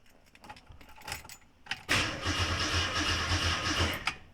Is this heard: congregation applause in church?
no